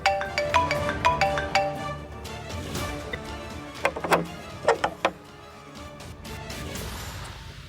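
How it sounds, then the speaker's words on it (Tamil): A phone ringtone plays as a repeating melodic tone pattern, moderately loud, mixed with scattered knocks and bumps in an indoor scene, without talk. "ஃபோன் அடிக்கட்டும், விடுங்க."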